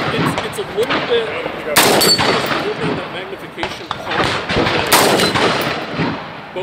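Rifle gunshots ring out at a practical rifle shooting competition stage, a string of sharp loud cracks at irregular intervals outdoors, with people talking between and over the shots.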